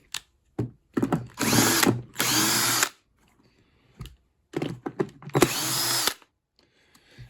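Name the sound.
drill making a slapping noise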